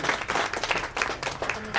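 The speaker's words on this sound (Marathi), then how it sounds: "जोरदार टाळ्या वाजवायला पाहिजे." An audience at a ceremony marking World Disability Day claps in a brisk burst of applause, close and dense, with faint voices underneath.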